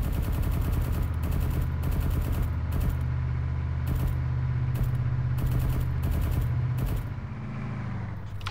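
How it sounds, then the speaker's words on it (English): Rapid bursts of automatic gunfire aimed at oncoming vehicles on a patrol, loud and close, repeating in short volleys over a low engine rumble before stopping abruptly near the end. "Shoot them, shoot them, shoot them."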